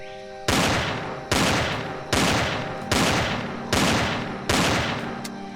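Heavy weapon fire strikes turrets in the sci-fi survival game Empyrion: Galactic Survival, six loud, evenly spaced booming blasts each trailing off into a decaying rumble, with no voices.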